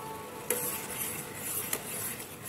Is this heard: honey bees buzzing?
no